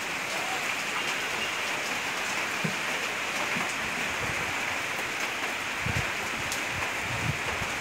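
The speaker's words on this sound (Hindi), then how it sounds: "दार्जिलिंग की बारिश।" Heavy monsoon rain in Darjeeling pours steadily and densely, with close drops pattering on surfaces in an unbroken hiss throughout.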